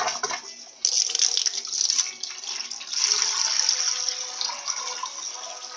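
An Electrolux Turbo Economia 15 kg top-loading washing machine filling on a heavy-soil cycle, with water gushing steadily into the drum in a loud, continuous rush that surges and eases slightly.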